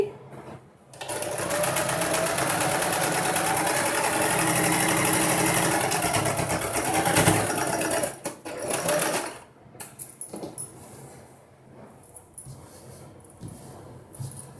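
Sewing machine stitching the hem of a nighty, heard as a loud, steady, fast mechanical whir lasting several seconds, then broken stops and short bursts as the stitching slows.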